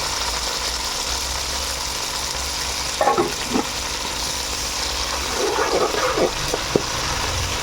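Onions, green chillies, mint and coriander frying in oil give a steady, loud sizzling hiss throughout, broken by a few brief stirring clatters near the middle and end, with no voices.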